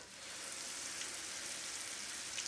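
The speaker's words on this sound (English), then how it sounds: "And they sound like they're frying pretty good." Potato pancakes sizzle steadily in a hot pan, an even, close crackle of frying oil holding at a constant level with no break and no talk.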